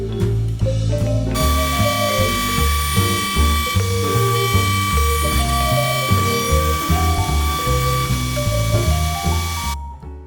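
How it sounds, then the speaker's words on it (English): A router cuts wood for a balcony bench, following a template fixed with double-sided carpet tape, giving a loud, continuous high-pitched whine with fluctuating low tones as the bit moves through the workpiece, then stopping abruptly. "then we'll run that through the router"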